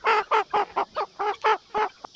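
Jubilee chickens in pens, not yet known as hens or roosters, give a rapid series of about nine loud, close, rhythmic clucking calls in quick succession.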